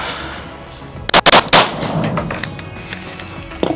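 Glock 47 pistol fired during a 25-yard grouping test, a few sharp, loud gunshots bunched close together near the start, followed by a fading echo and one more faint crack at the end.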